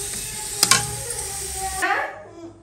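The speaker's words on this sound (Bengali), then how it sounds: "মশলাটা ভালোভাবে কষিয়ে নেব।" Spice masala frying for chicken curry, a continuous sizzle with a couple of sharp utensil clinks against the pan early on, then a louder stirring scrape before the sound cuts off.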